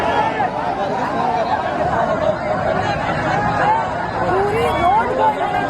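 A large crowd of Chandrashekhar Azad supporters blocking a road makes a steady hubbub of chatter and shouting with scattered laughter, a dense babble of voices filling the whole stretch.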